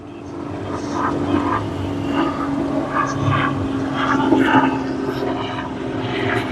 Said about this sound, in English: There's another helicopter right there.